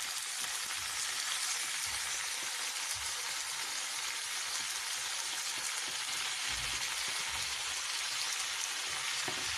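Tomatoes, parsley, garlic, broccoli and green pepper fry on browned onions for a shakshuka with minced meat, giving a loud, steady, dense sizzle that holds unbroken throughout with no voices.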